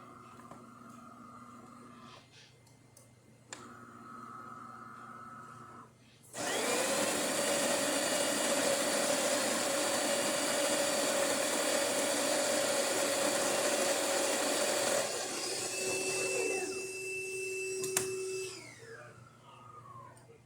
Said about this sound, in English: Let's pull a shot.